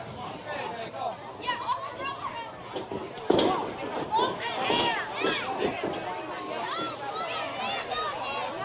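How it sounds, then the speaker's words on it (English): A crowd at a wrestling event jeers and heckles a wrestler, a steady babble of loud, overlapping voices with scattered shouts and one sharp thud partway through. "Hear the crowd really giving it to BA."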